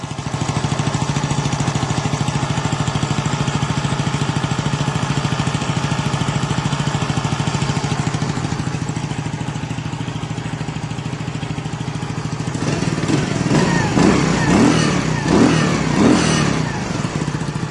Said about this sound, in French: La moto, elle démarre.